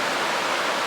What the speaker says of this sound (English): Made it down to the South Fork Agnes Creek. Beautiful little stream.